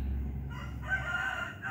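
A rooster crows once outdoors in a flower garden, a fairly faint, slightly distant call rising out of soft ambient background noise.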